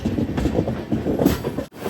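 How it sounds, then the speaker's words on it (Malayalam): An Amrit Bharat Express sleeper train pulls out of Tiruchirappalli toward Srirangam on a wide curve, heard from on board as a steady rolling rumble with rhythmic rail clatter. "6:30 തിരുച്ചിറപ്പള്ളിയിൽ നിന്ന് ഇതാ ട്രെയിൻ എടുത്തു."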